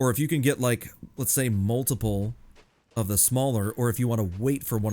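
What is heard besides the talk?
No everyday noises stand out.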